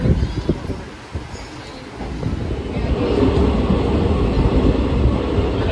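A train pulls into a railway station, a loud low rumble and rolling clatter that builds and then holds steady, with a faint voice underneath.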